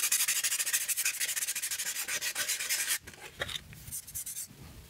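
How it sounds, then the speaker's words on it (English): Dry gypsum coating on a board is hand-sanded with 180 grit sandpaper. The close, rhythmic scratchy strokes are steady at first, then turn softer and more sporadic. "So I'm going to be sanding it with, I think, about 180 grit."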